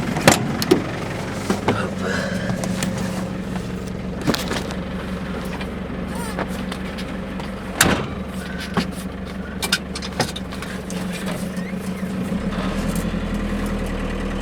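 An Iveco Daily 35-10 van idling and being moved a short distance, a steady mid-pitched engine rumble with scattered clicks and knocks, fairly close, with no talk.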